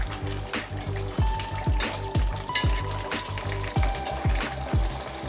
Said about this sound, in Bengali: মাছটা এভাবে ভালো করে ফুটতে দিতে হবে।